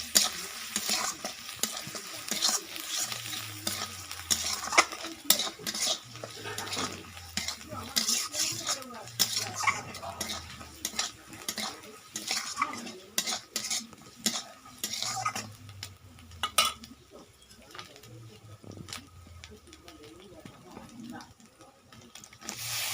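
Turmeric and chilli powder being stirred into a pan for tel koi fish, with repeated scraping and clinking of a spatula against metal over a steady sizzle, in a rhythmic pattern of strokes throughout.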